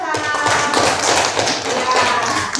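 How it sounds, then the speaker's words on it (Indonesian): A classroom gives a student named Salsa a round of applause, a dense, steady patter of many hands clapping together, fairly loud and close, with some voices mixed in. "Tepuk tangan dulu buat Salsa."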